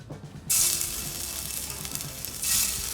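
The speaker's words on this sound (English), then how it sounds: "All right, so we're ready to brown these delicious looking meatballs." Beef meatballs browning in hot olive oil in a pan, a loud steady close sizzle that surges as they hit the oil and swells again near the end.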